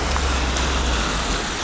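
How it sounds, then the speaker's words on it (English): Steady rain falls as a dense, constant hiss and patter throughout, loud and close, heard while out biking at night, with no voices. "it's kind of a nice steady rain"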